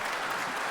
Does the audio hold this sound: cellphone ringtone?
no